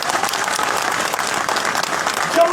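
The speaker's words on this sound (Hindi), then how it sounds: "तालियां बजाइए उनके लिए" Audience applause for Jammu and Kashmir residents at a power-sector gathering, a dense, steady wash of many hands clapping close by for the whole stretch, with no voices over it.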